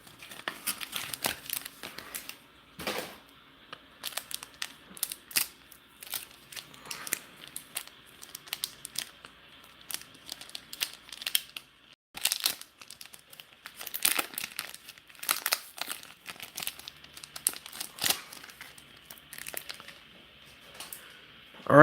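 Crinkling foil wrappers of Bakugan Battle Planet booster packs being torn open, with repeated sharp tearing and crumpling bursts up close and brief pauses between packs, no talking.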